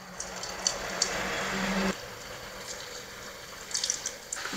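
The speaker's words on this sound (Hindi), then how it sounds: "तो इसमें हम ये फ्राइज डालेंगे।" Purple yam fries are dropped into hot oil over a low gas flame, producing a steady, moderate hiss of sizzling that shifts slightly partway through, close up with no talking.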